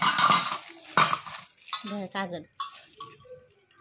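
Small metal kitchen vessels clink and clatter as they are handled, giving a few sharp, bright knocks followed by lighter ringing taps, with a voice faintly in the background.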